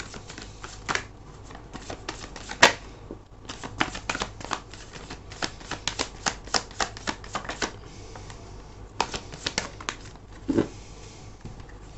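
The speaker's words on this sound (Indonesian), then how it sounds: "Aku akan ambil 5 kartu lagi ya." Tarot cards are shuffled and laid out in bursts of crisp, close riffling and snapping, with short pauses between rapid flurries and no speech.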